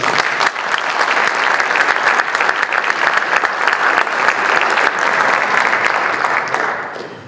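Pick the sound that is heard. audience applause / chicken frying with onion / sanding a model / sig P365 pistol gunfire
audience applause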